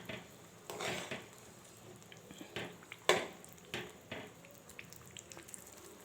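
A spoon scrapes and clinks against a pot while tomato paste is stirred for village-style tomato pickle, giving soft intermittent knocks and scrapes with one sharper clink, quiet and close.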